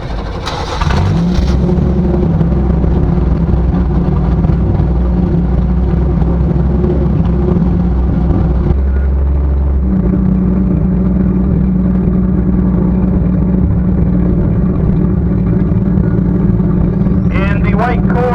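A 1962 Ford Falcon at an autocross event, its engine droning loud and steady with a shift in pitch partway through, while voices talk over it.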